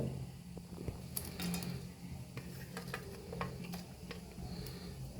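A spoon stirs a pot of simmering karuvadu kuzhambu, a dried fish curry, making soft scraping sounds and scattered light metallic ticks over a quiet background hum.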